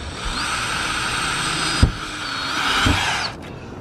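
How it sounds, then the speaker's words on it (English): Power drill boring pilot holes through a MaxxAir fan's adapter flange and the metal roof of a van, a steady whining motor run that briefly changes pitch as the bit breaks through, with a clunk partway. "So now I'm going to make a pilot hole on all 16 of the holes around the flange."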